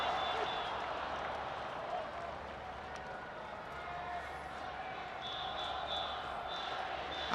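Baseball crowd in a Japanese stadium serenading player Chono during Netherlands vs Japan, a steady loud wash of massed voices and noise filling the whole stretch with faint repeated chant tones.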